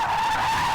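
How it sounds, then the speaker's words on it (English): Tyres on a car skid through a power slide, a loud, sustained high squeal held steady for under a second. "when you've gone through the power slide, it's all about getting the car back straight"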